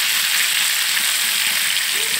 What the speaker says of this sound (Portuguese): vai fritar um aipim aqui com uma manteiga show de bola